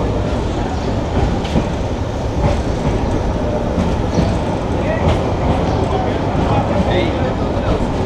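Saikat Express passenger train rolling into Cox's Bazar railway station, a loud, steady rumble of wheels and carriages heard from on board, with faint higher squeals and some voices mixed in.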